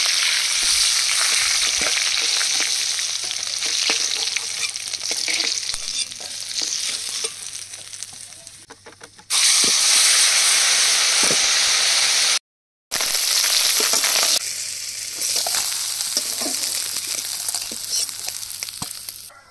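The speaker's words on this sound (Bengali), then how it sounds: "মাছগুলো লাল লাল করে ভেজে নিয়েছি" Fish fries in hot oil with a constant, dense sizzle and faint stirring scrapes. The sound is close and steady, dips briefly midway, and cuts out for a moment before resuming.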